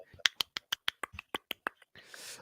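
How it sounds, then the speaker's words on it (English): Soft golf claps at a basketball watch party for Thunder vs 76ers: about a dozen light, evenly spaced pats, close and quiet, ending in a faint breathy rustle. "Golf clap. Golf clap."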